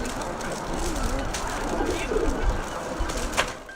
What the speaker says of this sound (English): making the well-known bubbling pigeon call